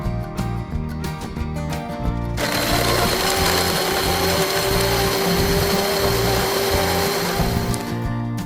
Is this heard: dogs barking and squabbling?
no